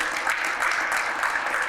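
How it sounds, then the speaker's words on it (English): Audience applause for the speakers at a press conference about the 2024 solar eclipse: a steady, dense burst of clapping from a crowd, fairly loud and filling the whole moment, with no talk over it. "So let's give all of our speakers a round of applause if we can."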